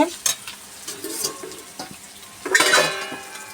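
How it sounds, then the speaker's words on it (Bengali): Fish oil stirred in a pan while cooking rohu fish curry: close, irregular scraping and clattering strokes of a spoon against the pan over a soft steady sizzle, with a louder burst of stirring near the end. "এই যে মাছের তেলটা ভালো করে নাড়াচাড়া করে নামিয়ে দেবো।"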